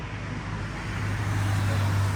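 A 2013 Toyota Vigo Champ pickup truck engine running steadily nearby, a low constant hum and rumble that grows slightly louder toward the end, with no voices.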